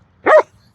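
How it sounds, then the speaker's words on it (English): A dog gives a single loud, sharp bark on command during outdoor training at a park, heard close by against near silence. "Bark and hold is basically when your dog is just bark, bark, bark"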